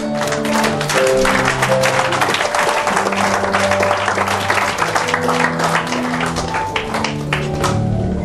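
A church congregation bursts into sustained, dense applause that fills the room steadily from start to finish, with music and scattered voices running underneath.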